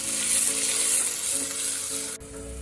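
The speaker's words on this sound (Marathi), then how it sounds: "कांदा मस्त आपल्याला हा थोडासा परतून घ्यायचा" Onion sautés in a hot pan for spinach rice, a bright steady sizzle with soft stirring, ending in a sudden clunk of a spoon against the pan.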